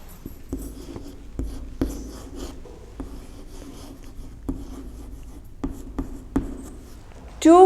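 Pencil or pen writing on paper, a steady scratchy rubbing with short strokes and a few sharper taps, fairly close and quiet, with no talking over it.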